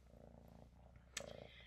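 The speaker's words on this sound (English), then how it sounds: "Hey, Belly, you come to purr for everyone?" A house cat purrs faintly and steadily close by, a soft rhythmic rumble, with a brief sharper sound partway through.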